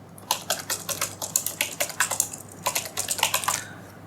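Quick bursts of computer keyboard typing while JavaScript code is entered, close and clear, coming in uneven runs of keystrokes with a short pause near the middle; no one speaks.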